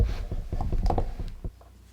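Tabletop press fitted with an awl die piercing marine vinyl, a close cluster of clicking, clunking mechanical knocks for about a second and a half, then settling into quiet.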